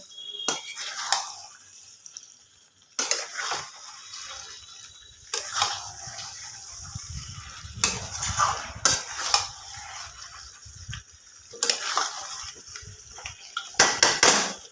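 Chicken masala with cashews and melon seeds being sautéed in a pan over a gas flame, a spoon scraping and clinking against the metal in bursts with quiet sizzling between them.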